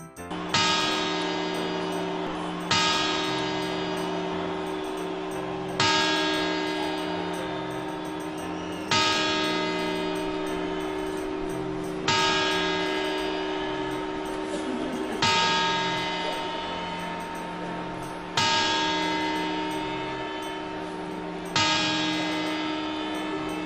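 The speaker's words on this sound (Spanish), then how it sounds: "Y ahora las 12 campanadas." Eight loud, resonant clock bell strikes ring out at steady intervals of about three seconds on New Year's Eve, each one decaying slowly under a steady low hum, with no voices.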